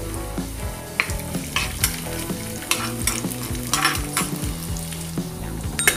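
Ginger, fenugreek seeds and urad dal fry in hot oil for a ginger chutney, a continuous crackling sizzle broken by frequent close scrapes of a spatula stirring the pan.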